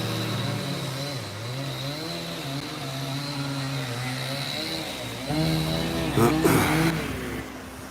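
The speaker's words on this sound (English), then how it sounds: "they're sawing the logs out there and stacking them up" A chainsaw cutting logs during land clearing drones nearby at a fluctuating pitch, its engine wavering, then revving louder and harsher near the end.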